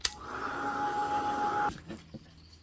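A dryer blows steadily on wet textured paint ridges, a continuous whirring hum with a faint whine that runs for under two seconds and then cuts off, followed by a few soft knocks.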